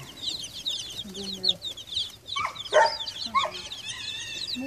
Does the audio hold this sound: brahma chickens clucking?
yes